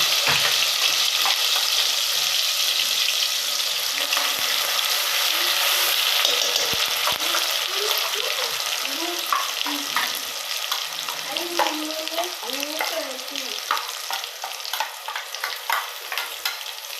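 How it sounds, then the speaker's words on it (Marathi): Ground Khandeshi masala paste frying in hot oil over a low flame, a loud, steady sizzle with occasional stirring scrapes and crackles throughout, close up and with no talk. "आता आपण थोडंसं तेल गरम झालं तर हे जे वाटण वाटलेलं आहे ना, हे टाकूया."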